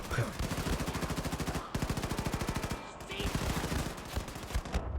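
Rapid automatic gunfire from the shooter game Wolfenstein II, loud sustained bursts of evenly spaced shots with a brief gap near the middle, filling the whole stretch without talk.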